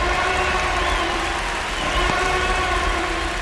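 Stadium crowd in MLB The Show 26 at a Marlins vs. Yankees home opener in the ninth inning, a dense continuous roar of fans that swells slightly midway and holds steady throughout, with no talking.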